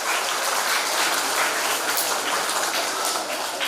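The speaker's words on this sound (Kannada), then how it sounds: "ಚಪ್ಪಾಳೆ" A crowd at a Kannada poetry recital and book-distribution event claps steadily and densely for the whole stretch, loud and close, with no pauses.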